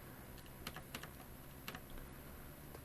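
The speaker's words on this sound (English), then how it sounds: "so I need to type this in" Numbers are typed on a computer keyboard during a chemistry calculation: a handful of separate, light key taps spaced irregularly over a faint steady background hum.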